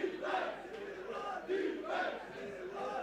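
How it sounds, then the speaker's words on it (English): A large stadium crowd roars and chants loudly in rising and falling waves at a European championship American football qualifier between Switzerland and Italy, with the noise filling the whole stretch. "the crowd is getting loud again for Switzerland"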